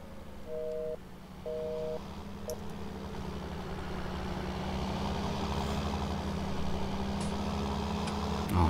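A truck-like vehicle engine rumbles steadily and grows slowly louder as it approaches in Farming Simulator 19, with a few electronic two-tone beeps near the start.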